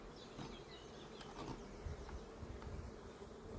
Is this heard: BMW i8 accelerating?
no